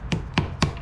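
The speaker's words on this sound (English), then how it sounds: "the first thing you do after you get a really expensive billet block is you start hitting it with a hammer" A hammer strikes an expensive billet engine block for a 2000-horsepower Taurus engine, three sharp, close metallic knocks evenly spaced in under a second.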